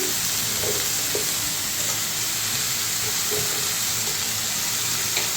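Capsicum and tomato fry in a pan with a loud, steady hiss and crackle, punctuated by a few soft stirring taps.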